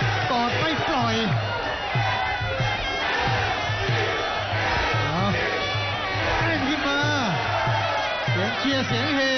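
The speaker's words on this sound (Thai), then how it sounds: "เสียงเฮกองเชียร์ของวุฒิชัย" Supporters roar and cheer for Wuttichai at a Thai Muay Thai boxing bout, a dense continuous crowd din with surging shouts, a commentator's voice running over the noise.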